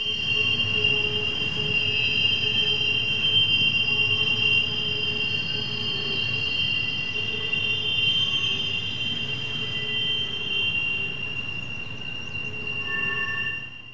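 A freight train rolls steadily around a curve on the Pittsburgh Line, its wheels squealing in a sustained high-pitched whine over a continuous low rumble, close and loud for the whole stretch.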